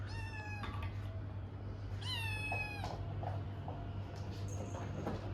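Two drawn-out, wavering meows from fighting cats, one after the other, against a steady low hum and faint shuffling.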